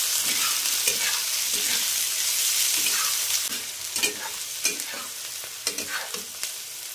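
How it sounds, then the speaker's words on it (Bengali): Onions and carrots fry in a pan under a dense, steady sizzle. Rhythmic spatula strokes scrape and tap through it, growing more distinct toward the end. "পেঁয়াজ আর গাজর ভেজে নিচ্ছি"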